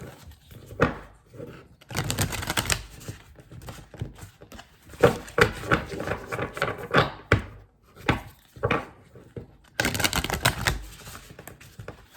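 Repeated bursts of papery riffling and soft slapping, a Rumi Oracle card deck shuffled close by in four separate rounds with brief pauses between.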